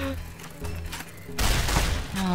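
A shotgun blast in Fallout: New Vegas, a loud broadband burst arriving about midway through, with game noise and a voice around it.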